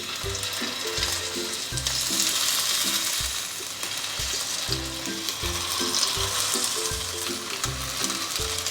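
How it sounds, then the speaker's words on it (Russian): Potato and chicken cutlets fry in vegetable oil in a preheated pan, a steady close sizzle with crackling spits and pops that runs throughout. "Теперь эту вкуснятину обжариваем до румяного цвета с каждой стороны."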